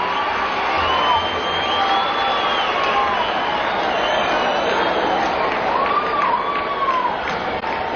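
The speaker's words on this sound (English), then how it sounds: "the Cub crowd really yells when they hear Sutter's name" A baseball crowd of Cubs fans at a 1979 game yells and cheers loudly, a sustained roar with whoops rising over it.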